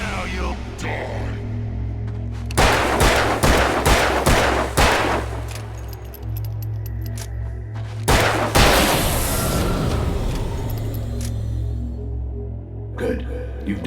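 Gunshots from the video game Alan Wake ring out in bursts over a steady low game drone, several sharp blasts in quick succession near the start and another loud cluster in the middle, with scattered smaller reports after.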